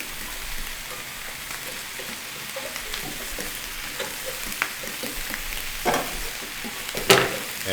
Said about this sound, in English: And give it another stir.